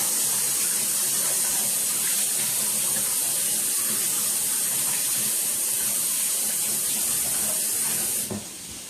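Kitchen tap water runs steadily and loudly while cauliflower leaves are rinsed, a continuous close splashing rush that cuts off shortly before the end, with no one speaking.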